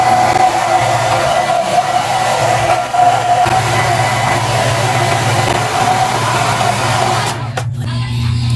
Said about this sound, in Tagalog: Guys, na-blower ko na para wala talaga siyang tubig.